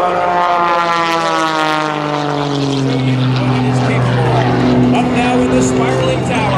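An all-new aerobatic propeller plane performing at the 2010 Boston Portsmouth Airshow roars loudly overhead, its engine pitch sliding downward as it passes, while an announcer talks over it.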